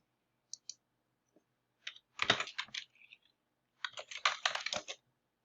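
Computer keyboard typing up close, with a few isolated key taps followed by two quick bursts of rapid keystrokes separated by a pause; no voices.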